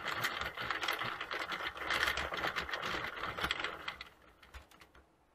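A Sentro circular knitting machine being cranked around, a rapid, close clattering of plastic needles ticking past in quick succession that thins out and fades near the end.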